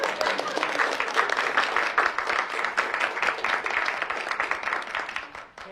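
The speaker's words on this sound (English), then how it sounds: "You can clap for 150." Audience clapping at a committee meeting marking the Akron Summit County Public Library's 150th anniversary, a dense, steady round of applause from a room of people that holds for several seconds before tapering off at the end.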